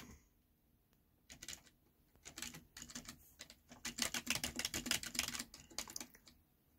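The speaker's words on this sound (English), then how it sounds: "very crappy rubber dome keyboard." Typing on a cheap, common rubber dome computer keyboard: soft, muffled key presses in irregular bursts, sparse at first, then building into a dense, rapid run of clacks before tapering off, close and alone.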